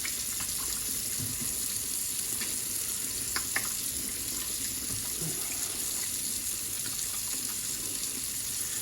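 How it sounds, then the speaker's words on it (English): Warm water running steadily from a kitchen tap into a sink for hand washing, a continuous hiss of flow with faint splashing, fairly close and with no talk. "we need to wash our hands. So we need warm water"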